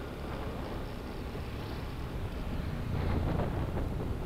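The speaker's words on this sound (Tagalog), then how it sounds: "Medyo malakas ang hangin." Strong wind rushes and buffets against the microphone throughout, a dense continuous roar that swells slightly toward the end.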